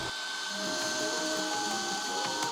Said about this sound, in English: I'm going to be doing my pocket holes on the longer side of the wood